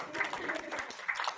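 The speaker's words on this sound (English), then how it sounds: "Could you all give Mr. Haizlip a round of applause?" At a back-to-school gathering, an audience gives Mr. Haizlip a short, faint burst of scattered clapping, mixed with voices in the room.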